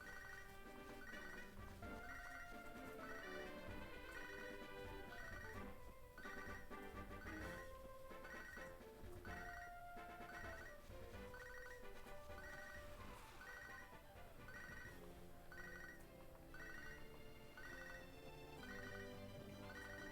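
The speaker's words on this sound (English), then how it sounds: "this boy's letting that phone ring for a while" A ringing phone in a Pokémon video game trills in repeated bursts that keep going, layered over steady game music with no voices.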